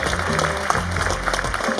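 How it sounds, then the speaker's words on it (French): Applause from a gala dinner audience fills the room, a dense steady patter of many hands clapping over a brief stretch with faint voices mixed in. "Est-ce qu'on peut applaudir pour cet instant solennel,"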